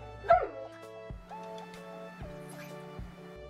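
A dog barks on command indoors, one sharp close yip followed by a series of softer whining, yelping vocalizations with clear tonal pitch, no talking over it.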